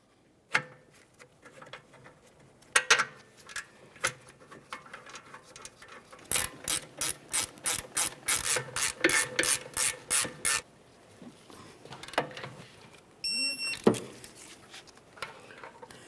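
Ratchet snugging the rear brake mounting bolts on a 2009-2014 Nissan Maxima, a rapid run of loud, close clicking bursts with scattered metallic clanks before and after.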